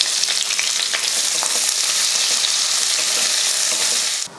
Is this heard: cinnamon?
yes